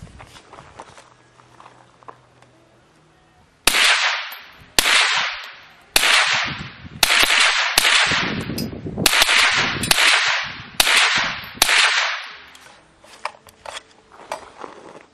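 A suppressed 14.5-inch M4 rifle from SPS fires about ten sharp, fairly loud shots in an irregular sequence, each a quick crack with a short decaying tail, after a quiet opening stretch.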